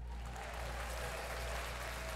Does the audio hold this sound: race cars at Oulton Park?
no